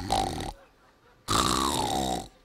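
A voice imitates snoring with two drawn-out, rasping, throaty snore sounds, the second longer and louder, separated by a short pause.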